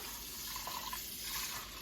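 Water pours steadily into the stainless steel inner pot of a multi-cooker, a continuous close splashing fill with no talk over it.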